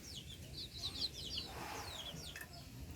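Pet chicks eating mango let out repeated thin, high chirps and soft clucks, fairly faint over a low background hiss.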